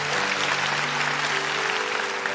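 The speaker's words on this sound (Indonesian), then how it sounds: "Tepuk tangan untuk Tuhan" A church congregation claps together in a steady, dense wash of applause that fills the whole stretch, with faint voices woven underneath.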